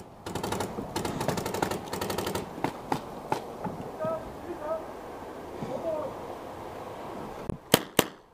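Tippmann A5 paintball marker firing during an outdoor paintball game at a villa, rapid bursts of sharp pops in quick strings early on, then sparser single shots and a couple of loud close cracks at the end, with shouting voices mixed in.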